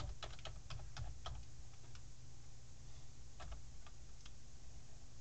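Typing on a computer keyboard into the Internet Explorer browser, close and fairly quiet, with clusters of light key clicks in two short bursts over a steady background hum.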